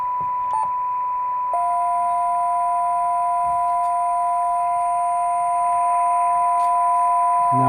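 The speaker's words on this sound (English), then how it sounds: "now we can hear both tones and hear that they're quite different" An Arduino-controlled Si5351 VFO produces a steady pure tone, then a second distinct tone joins it, and the two hold together as clear continuous beeps.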